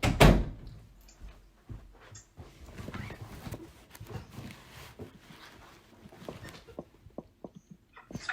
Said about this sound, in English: Okay, can you please close that door?